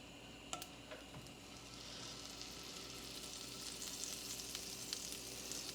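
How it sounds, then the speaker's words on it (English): About half a tablespoon of butter melting in a frying pan for breakfast tacos gives a faint, steady sizzle and crackle with a few sharp ticks near the start, continuing evenly throughout. "I'm just gonna pop that in my pan and let it melt"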